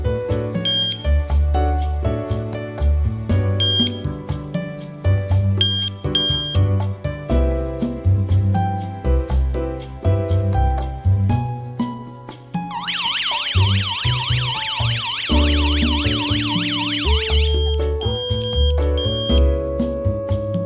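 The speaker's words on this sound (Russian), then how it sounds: "сирена также прозвучит." PG-105 alarm host sounding its siren: a loud, rapidly warbling electronic wail that runs for several seconds over a background of choppy beeps and tones from the unit.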